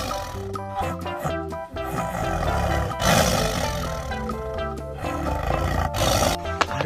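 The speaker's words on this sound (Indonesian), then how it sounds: "Ternyata di sini ada harimau." Loud roar of a Sumatran tiger laid over bright, busy music, with the roar swelling midway and again near the end, filling the whole stretch without any talking.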